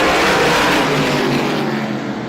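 Race cars at a short-track speedway roar steadily into a turn, a loud continuous engine drone with rising and falling pitch from several cars together, no voices.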